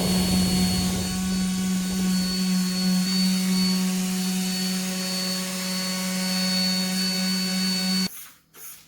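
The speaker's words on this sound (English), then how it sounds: "I'm just going to go over it with the sander again" Electric sander going back over a kitchen surface to strip off remaining paint, a loud steady motor whine with strong harmonic tones that runs continuously for about eight seconds, then cuts off abruptly into brief shuffling noise.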